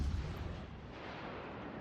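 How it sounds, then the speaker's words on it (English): Long-range naval gunfire in World of Warships: Legends, a deep rumbling boom that rolls on steadily, heaviest at the start and then holding as a dense low roar. "And with some pretty solid long-range gunnery there"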